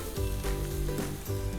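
Onion and ginger sizzle loudly in a hot pan, a close, dense hiss with soft stirring scrapes and no talk.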